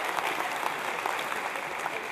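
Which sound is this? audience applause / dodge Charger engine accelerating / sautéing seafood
audience applause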